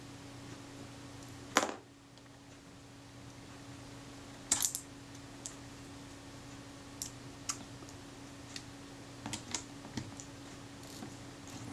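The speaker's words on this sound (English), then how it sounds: "I can hear that ratchet clicking into position." A camera ratchet turned clockwise with a special driver, giving a few sharp, sparse clicks close by, spread out over a quiet, steady background hum.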